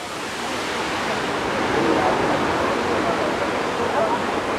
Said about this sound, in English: spray from the waterfall is like spraying out quite a lot